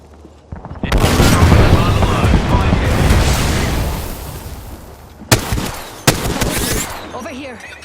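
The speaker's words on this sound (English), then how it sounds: "Knuckle clusters firing." Knuckle Cluster explosive launcher fired in Apex Legends: a dense, sustained crackling barrage of small blasts lasting several seconds, then two sharp, loud bangs a moment apart over fading battle noise.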